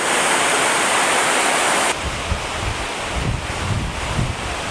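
Loud, constant roar of a waterfall beside a town at Geirangerfjord, Norway, dense and hissy, shifting to a rumblier, gustier wash partway through.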